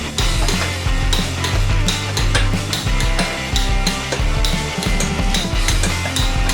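Rapid clicking of a ratchet torquing down the main bearing caps on a Ford 200 straight-six engine during reassembly, steady repeated pawl clicks close up.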